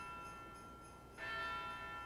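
Church bells tolling at midnight, a steady resonant ringing with sustained overtones that swells louder partway through, heard alone with no voices.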